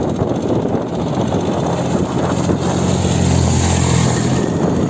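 A Storm outboard motor drives an inflatable boat across the water in a steady, loud buzzing drone, with heavy wind rush against the microphone throughout.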